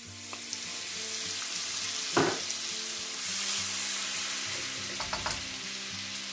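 Butter melting into hot oil in a pan for crispy chicken wings, a continuous close sizzle with a brief louder spit and a few light utensil taps.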